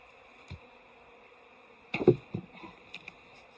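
Honeybees buzz faintly and steadily around a hive topped with a super in early autumn in the subarctic, with a few soft thumps and knocks from handling the hive.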